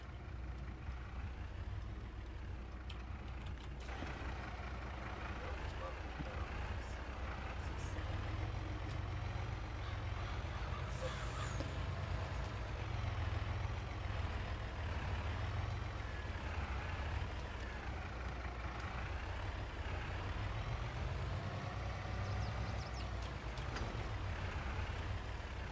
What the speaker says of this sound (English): I'm really loving the Aero Max semi, because this thing picks up good speed